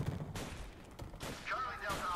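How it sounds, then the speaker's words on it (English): Distant gunfire in the zombie video game Deadlight, with several muffled shots rattling in quick bursts at low volume, with some game voices alongside. "That's gunfire."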